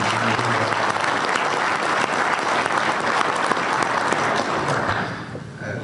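A large audience at a company sales meeting gives loud, sustained applause for award winners, a thick continuous roar of clapping that eases slightly in the final second.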